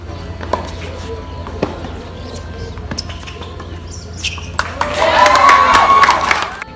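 Crowd at a women's tennis match bursts into applause and cheering near the end, a loud, dense swell after a quieter stretch of scattered court noise.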